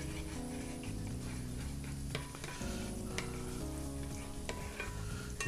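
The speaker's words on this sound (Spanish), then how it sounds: "Empezamos a sofreír el ajito" Garlic fries in olive oil in a pan with a soft, steady sizzle and occasional light clicks of stirring, close and quiet, with no talking.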